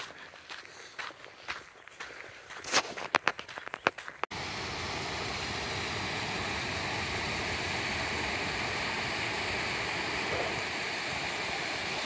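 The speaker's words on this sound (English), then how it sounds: "There's running water over there." A stream of running water flows steadily and loudly beside a rocky, mossy hiking trail to Trollpikken in Norway, a constant rushing wash after a few footsteps crunch on the path.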